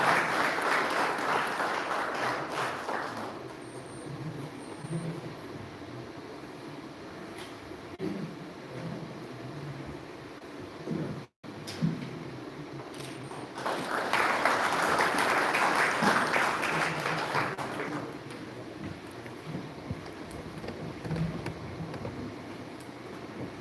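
An audience at a security and safety team launch ceremony bursts into applause in two waves of clapping, the first fading after a few seconds and the second swelling louder midway, with faint background murmur between.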